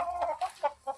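Rooster of about 4.5 kg at a poultry sale, giving a few short, loud, close clucking and crowing bursts with brief gaps between them.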